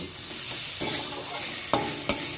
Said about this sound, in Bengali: আবারও একটু নেড়ে ছেড়ে নেব